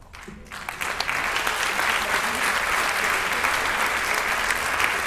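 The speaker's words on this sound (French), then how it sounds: "Bravo, on les applaudit." An audience at a prize-giving event applauds the winners: a loud, sustained wash of many hands clapping that swells in after a brief quiet start and holds evenly to the end.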